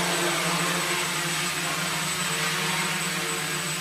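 A small flying drone gives a steady, loud, unbroken whirring buzz with a faint high whine, sounding close and constant with no voices over it.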